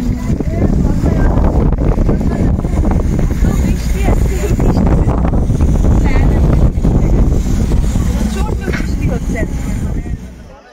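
Strong monsoon wind with rain at Batasia Loop in Darjeeling roars and buffets the microphone loudly and steadily for about ten seconds, then eases off at the end.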